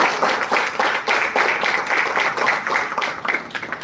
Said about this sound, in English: Let's give it a big round of applause for Ms. Pooja Singh